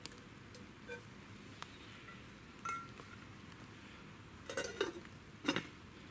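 A spoon scrapes and clinks against a pot of brew on a Firebox wood stove outdoors, giving faint, scattered taps and stirring clatter over quiet woodland background.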